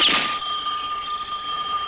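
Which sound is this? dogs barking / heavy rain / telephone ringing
telephone ringing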